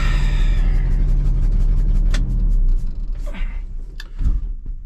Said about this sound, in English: Good little country cruise in a 69 F600 grain truck